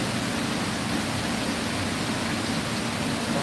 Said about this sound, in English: Look at the rain.